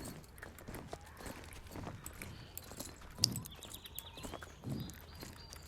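Horse hooves clip-clopping in the Star Stable Online video game, a Clydesdale-like horse walking with steady, moderately close steps over a faint game ambience.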